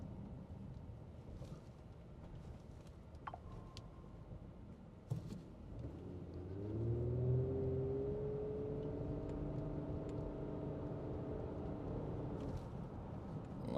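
A 2014 Nissan Pathfinder SUV with a CVT shudder problem pulling away from a complete stop, a low engine hum building and rising in pitch about halfway through, heard from inside the cabin, fairly quiet and steady.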